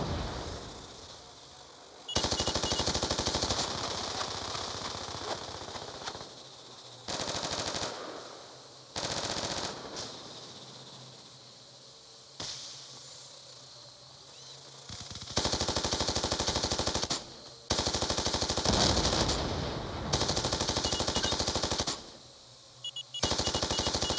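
Dragonfire drone gunfire in Black Ops II sounds in rapid bursts of machine-gun fire, loud crackling volleys that start and stop abruptly, separated by quieter stretches of game ambience.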